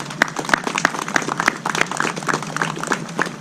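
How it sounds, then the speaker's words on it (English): Audience at a college student services center groundbreaking ceremony clapping, a dense, close round of applause with sharp individual claps standing out, fairly loud and continuous for a few seconds. "Let's give them a round of applause."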